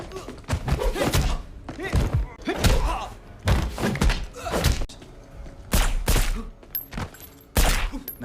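A gunfight in the action film Triple Threat, with heavy bursts of gunshots, thuds and impacts coming in irregular clusters over dramatic sound effects.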